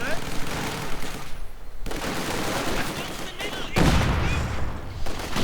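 Infantry gunfire in Company of Heroes 2, dense overlapping bursts of rifle and machine-gun fire crackling loudly and continuously, with heavier booming impacts near the end.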